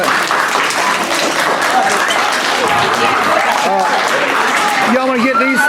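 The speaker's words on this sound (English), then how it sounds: "Y'all give them a big round of applause for coming out for us." Audience at an elementary school animal show claps loudly and continuously, a dense close wash of applause that carries on right to the end while a few voices call out over it.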